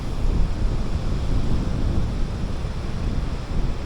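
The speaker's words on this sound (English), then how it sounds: "it's still a beach. That's still the ocean." Wind and surf on a California beach, a continuous broadband roar with no distinct wave breaks, steady and fairly loud throughout.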